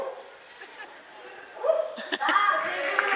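Voices imitate a big dog's barks at a bird show, a few short woofs and yelps that get louder and more excited toward the end, mixed with talking.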